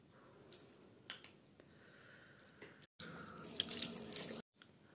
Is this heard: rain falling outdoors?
no